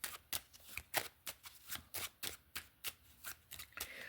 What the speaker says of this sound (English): let me pull out a couple more of these cards